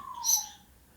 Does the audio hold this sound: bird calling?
yes